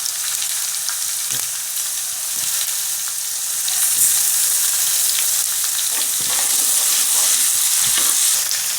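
A steady, bright sizzle of garlic and ginger paste frying in hot oil with onions, with occasional soft stirring knocks, close and continuous without any talking.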